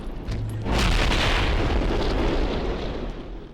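Grenade explosions in the shooter F.E.A.R. Perseus Mandate: a loud, deep blast swells in under a second and rumbles on with rolling, booming debris before fading slightly.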